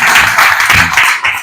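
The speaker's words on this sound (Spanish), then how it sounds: "Déjanos que te aplaudamos." Loud, close audience applause at a mental health colloquium, a dense wash of many hands clapping at once, brief and uninterrupted.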